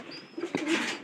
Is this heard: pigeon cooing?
yes